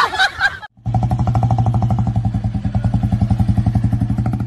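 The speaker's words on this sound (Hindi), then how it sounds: "बहन किसी लड़के के साथ बाइक पे जा रही है" A motorcycle starts up close by and pulls away, its engine throbbing in a loud, fast, regular pulse after a brief clatter.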